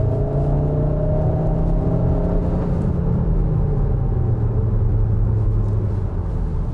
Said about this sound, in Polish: Posłuchajcie, jak działa skrzynia biegów przy wchodzeniu na wyższe obroty i przy schodzeniu na niższe obroty